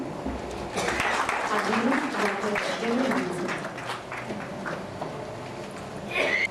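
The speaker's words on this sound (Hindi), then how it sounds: "आप सबकी जोरदार तालियां" Audience applause at a book release function in a museum hall, a dense sustained wash of clapping with voices mixed in, fairly loud and steady before trailing off.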